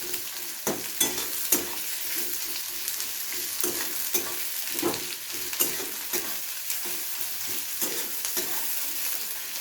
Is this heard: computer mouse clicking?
no